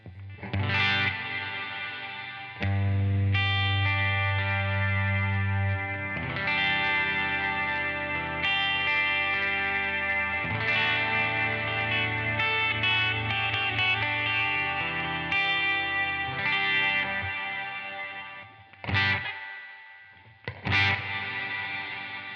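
Electric guitar run through a Strymon BigSky reverb and Timeline delay, giving a wide worship-style wash: loud sustained chords ring out and swell for about twenty seconds, then a few short stabs trail off into echoing tails.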